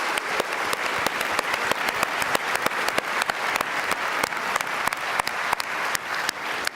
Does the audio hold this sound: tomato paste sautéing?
no